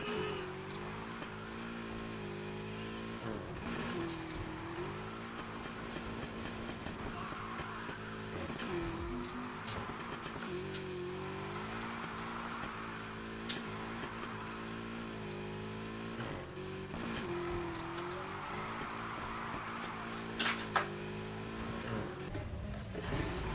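Car engine revving and tires squealing through drifts in the Need for Speed Heat racing video game, a continuous loud roar with rising and falling engine pitch over game music.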